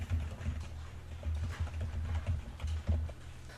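Someone types CSS text-decoration code on a computer keyboard, producing quiet, rapid, irregular key clicks in short bursts with no speech.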